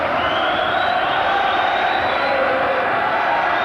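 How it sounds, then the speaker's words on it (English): A boxing arena crowd at the Steve Robinson versus Colin McMillan fight chants and roars in a sustained, dense wall of voices, loud and continuous throughout. "So it's all the here we go stuff now from the crowd who've made up their mind that the Welshman's ahead."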